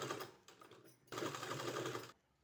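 A sewing machine stitches piping onto a sleeve in two short bursts of rapid mechanical whirring separated by a brief slowdown, then stops. The sound is close and fairly quiet, with no talk.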